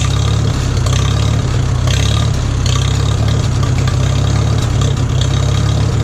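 A 1941 Farmall H tractor engine runs steadily at a smooth idle, a loud, continuous low rumble with slight surges, close up and alone throughout.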